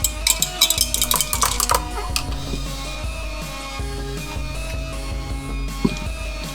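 A grape vodka drink being stirred with sweet and sour mix: a quick run of light metallic clinks and taps against the glass at first, then settling into faint activity under background music.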